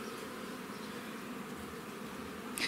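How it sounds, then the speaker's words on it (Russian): Large honey bees of a new breed buzz steadily at a Moldovan apiary, a dense close swarm hum filling the whole stretch with no talk over it. "Это крупные пчелы."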